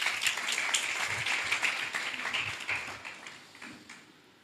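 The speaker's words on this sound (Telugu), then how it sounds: "చప్పట్లు కొడదామా?" Youth gathering at a Telugu revival meeting breaking into applause for a boy who answered correctly, a dense clapping that fades toward the end, with no voices over it.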